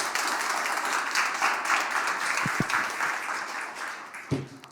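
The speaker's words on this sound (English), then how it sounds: "we can give you a warm hand of applause for being in the panel" An audience applauds a panel at an accelerator dealflow party with sustained, even clapping from many hands, a few sharp thumps near the end as it begins to thin out.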